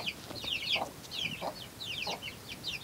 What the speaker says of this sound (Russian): Цыплята с курицей.